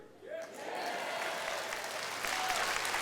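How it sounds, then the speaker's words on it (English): A crowd at a Nigel Farage political rally bursts into applause and cheering, building quickly into sustained clapping that carries on steadily, with some voices mixed in. "Now, that was a quieter cheer."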